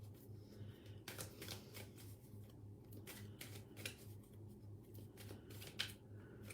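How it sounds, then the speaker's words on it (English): A deck of tarot cards being shuffled during a live reading: soft, rapid riffling and slapping bursts repeated at a steady pace over a low constant hum, fairly quiet and without talk. "you definitely want to have a seriously good shuffle, Samantha."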